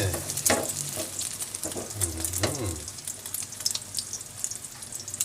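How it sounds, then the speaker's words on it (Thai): Beaten eggs for a Thai omelette hit hot oil with a loud crackling sizzle, bubbling and spattering close up while a spatula stirs, the frying settling into a steady hiss. "นี่วิธีเจียวไข่ให้อร่อยต้องเจียวอย่างนี้"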